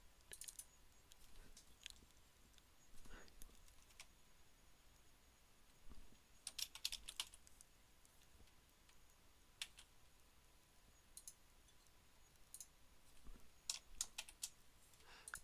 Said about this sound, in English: I'm just doing a really lousy job of typing here.